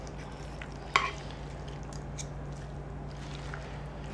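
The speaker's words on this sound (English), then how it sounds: "It's just stirring it, and the stuff just falls apart as you stir it." Spoon stirring tender pulled pork with brown sugar seasoning in a pot, soft wet squishing and scraping, with one sharp clink near the start over a low steady hum.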